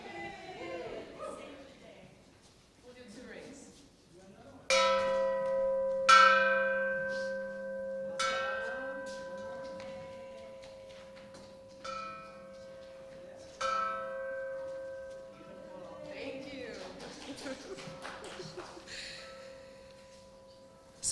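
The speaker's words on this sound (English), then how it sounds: "Let's ring that bell." A church bell tolls several times in a sanctuary during a worship service, each strike ringing out with a long fading hum, while people talk softly between the strokes.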